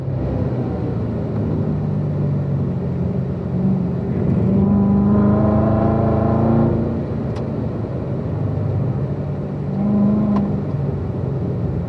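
Race car engine pulling hard out of a turn on a circuit, shifting up through the gears with a rising, revving tone that swells in the middle and eases off; loud and continuous, no talk.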